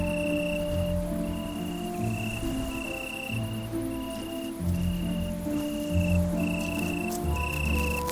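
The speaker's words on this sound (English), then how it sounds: "Insects search for mates," Insects chirping at night in a city, several crickets trilling steadily with pulsing, overlapping calls over a constant low urban hum.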